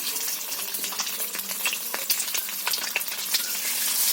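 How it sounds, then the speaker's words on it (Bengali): An egg sizzles and crackles steadily in a hot oil-filled wok, with a dense, continuous frying hiss and scattered sharper pops, heard close and alone for a spicy egg and eggplant dish. "আমি ডিমটা কড়াই দিয়ে দিচ্ছি"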